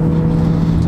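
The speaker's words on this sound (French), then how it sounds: "la voiture, elle fait un peu plus de son" A car fitted with a new exhaust silencer, being driven on the Nürburgring, gives a loud, close engine drone that holds a steady pitch through a brief moment.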